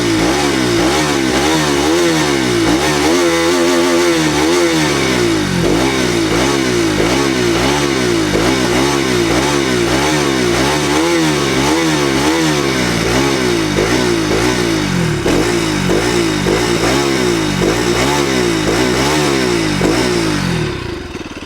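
A Bajaj Pulsar RS 200 motorcycle engine runs loud and close, idling with a throbbing rhythm and rising in repeated revs throughout, ending abruptly.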